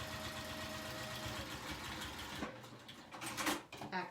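A sewing machine back-stitches with a steady, fast mechanical whir that runs for a couple of seconds, then gives way to a few quieter clicks and handling noises at close range.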